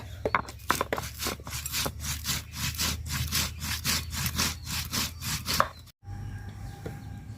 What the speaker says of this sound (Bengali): তো জিরা, এলাচ আর লবঙ্গ নিয়ে নিছি 2-3টা, বাইটটা নিব একসাথে